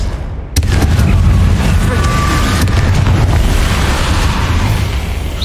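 A Confringo spell blasts in Hogwarts Legacy, the 2023 PC game, erupting as a sudden loud boom that gives way to a sustained roaring rumble lasting several seconds.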